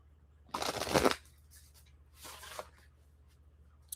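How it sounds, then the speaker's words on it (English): A deck of cards is shuffled close up, with a loud riffling burst followed by a second, softer shuffle, and nobody speaks. "Let's give these cards a good shuffle."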